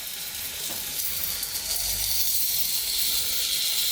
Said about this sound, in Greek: Βάζουμε τα μπιφτέκια μας σε μέτρια φωτιά προς δυνατή και σε κρύα σχάρα.